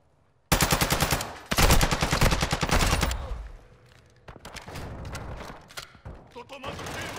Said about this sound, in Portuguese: Tô tomando tiro!